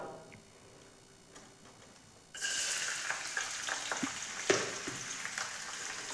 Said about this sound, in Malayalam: ഇനി നമ്മൾക്ക് അതിലേക്ക് ഇഞ്ചിയും പച്ചമുളകും പിന്നെ വെളുത്തുള്ളിയും ചെറുതായി മുറിച്ച് വെച്ചത് ഇട്ട് കൊടുക്കാം